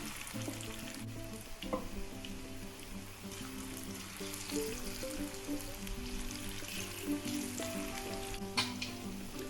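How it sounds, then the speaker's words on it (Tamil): Cauliflower pakoda pieces fry in hot oil in a pan, a continuous moderate sizzle and bubbling with occasional louder crackles and faint clinks, and no voices. "இப்போ எண்ணெயை ஒரு பாத்திரத்தில் காய வச்சு ஒன்றொன்னா எடுத்து போட்டுக்கலாம்."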